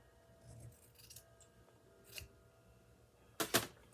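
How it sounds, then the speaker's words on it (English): Scissors snipping off a small strip of fabric at the edge of a fabric-covered junk journal, a few faint, scattered cuts followed by a sharper, louder snip near the end, close by in a quiet room. "I have this one little strip down here at the bottom that I need to cut off."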